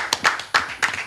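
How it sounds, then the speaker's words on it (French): A few people clap for a singer as she arrives on a French-language broadcast. The claps are sparse and separate, a short, loose handful of sharp smacks close by. "Je veux qu'on applaudisse ensemble"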